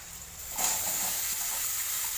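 Chopped banana stem pieces hit hot oil with cumin powder, and the sizzle jumps louder partway through, then settles into a steady hiss and crackle with no talking.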